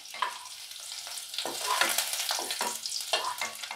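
Green chillies and chopped raw garlic fry in hot oil in a wok. Sharp, close sizzling swells in bursts as they are stirred with a utensil, and nobody talks.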